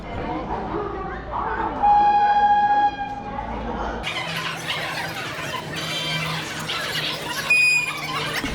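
An Azimganj–Krishnanagar passenger train pulls into a station with high, drawn-out brake squeals and rumbling wheels, while voices talk nearby.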